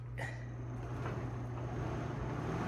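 A Bowflex Max Trainer M3 runs after a clunking fix, giving a steady low hum and whir that holds even and continuous for the whole stretch, with no knocks breaking through.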